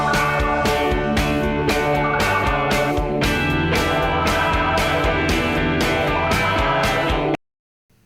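A dense mix plays, with a repeating arpeggiated synth phrase cycling steadily in the background under the full band, loud and continuous until it cuts off abruptly.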